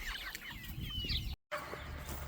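Free-range farm chickens cluck and chirp nearby against an outdoor background hum, with several overlapping calls before a brief dropout, after which the ambience returns.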